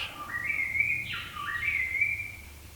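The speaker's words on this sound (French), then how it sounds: "Voyez les oiseaux dans les branches." Birds in tree branches give a clear sweeping whistled call, a few rising and falling phrases close and fairly soft over a quiet low background hum.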